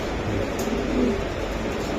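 Soft, low cooing of a racing pigeon under a steady background hum, close by and gentle.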